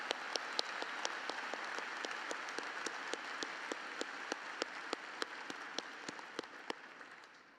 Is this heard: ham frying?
no